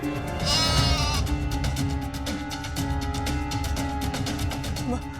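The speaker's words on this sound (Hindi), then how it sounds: "ये बकरी न जाने कहां से आ गई और शोर मचा रही है" A goat bleats loudly and repeatedly at close range, its wavering cries coming in a steady run over a busy indoor background.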